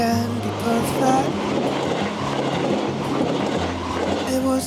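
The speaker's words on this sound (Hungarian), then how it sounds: "És most pont jön a vonat, megvárjuk." A train pulls into a station in Kyoto, Japan, its steady rumble of wheels on rail holding loud and continuous, with faint voices nearby.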